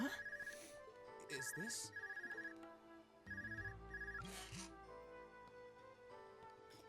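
An electronic phone ringtone beeps in repeated bursts in the video game Trails of Cold Steel 2, over background music, with a character speaking briefly.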